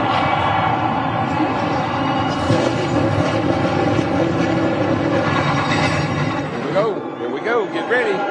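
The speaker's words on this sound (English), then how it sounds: "Gentlemen, start your engines." Several race car engines fire up and roar together at the start of a stock car race, a dense, loud mechanical drone that swells steadily, with tones rising near the end as the cars begin to pull away.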